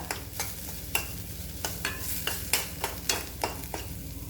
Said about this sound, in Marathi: आता हे मिरची जी वाटलेली होती आपण ती यामध्ये परतून घ्यायची आहे